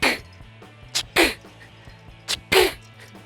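A voice imitates a nail gun with two pairs of sharp, breathy bursts, a short puff followed by a louder hissing blast, close and loud.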